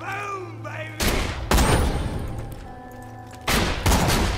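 Heavy shotgun blasts in Borderlands 2, fought against enemies aboard a pirate-themed level: four loud booming shots spaced about a second or two apart, each with a long decaying tail, over game ambience.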